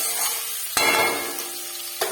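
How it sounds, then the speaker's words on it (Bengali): Potatoes for samosa filling frying in a pan: a steady, close sizzle with a knock of a utensil against the pan partway through and another near the end. "সিঙ্গাড়ার আলু ভাজবো, দিয়ে ভেজে নিয়ে এর সাথে কপিটাকে দিয়ে দেবো।"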